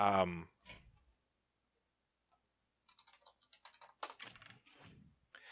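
Computer keyboard typing during a Hearthstone game session: a few brief bursts of light key clicks after a pause, with a voice talking at the start and near the end.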